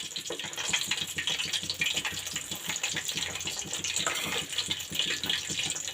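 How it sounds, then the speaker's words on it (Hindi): Water-laden oil bubbling and hissing in a pan as fried fish pieces are returned to cook over medium-low flame, a steady, dense gurgling fizz that continues throughout without talk. "ये देखें इसके अंदर पानी है, ये देखें ये पानी की आवाज़ आ रही है, इसलिए झाग भी ऊपर इसीलिए बन रही है।"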